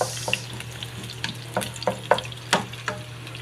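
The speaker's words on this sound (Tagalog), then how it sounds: "ilalaglag na natin ang ating sibuyas bawang at saka kamatis gigisa natin" Onion, garlic and tomato sautéing in a hot pan for ginisang munggo, a steady sizzle punctuated by a series of sharp stirring scrapes and clinks roughly every half second, close and fairly loud with a low steady hum beneath and no talking.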